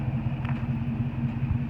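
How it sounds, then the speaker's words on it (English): Exhaust note of a 2006 Ford F-150 pickup fitted with a Black Widow exhaust, a steady low rumble at idle with a rhythmic throb, close and continuous throughout. "Truck sounds good, man."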